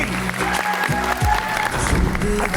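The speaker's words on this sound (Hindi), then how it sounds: "भाई बहुत सारी तालियां प्लीज वेलकम" Studio audience applauds to welcome guest Umaan Qureishi onto a talk show, a steady close wash of clapping with some low background rumble and a faint voice mixed in.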